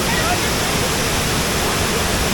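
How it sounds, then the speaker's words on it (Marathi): Savatkada waterfall in the Konkan, swollen with monsoon water, gives a steady, dense roar of falling water, close and unbroken across the short stretch. "हा पहा धबधबा"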